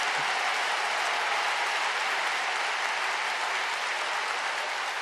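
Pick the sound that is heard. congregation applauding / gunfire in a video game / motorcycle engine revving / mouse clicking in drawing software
congregation applauding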